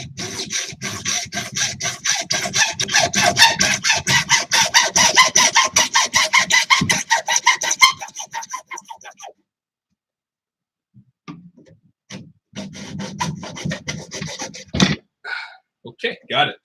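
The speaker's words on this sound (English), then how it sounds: "Hopefully I don't hit anything with this hacksaw." A hacksaw cuts through material in fast, regular rasping strokes for about eight seconds, pauses, then resumes with more strokes; it sounds close and clear, with no talking.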